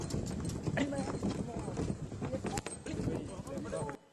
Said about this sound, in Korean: 당나귀를 타고 가고 있습니다.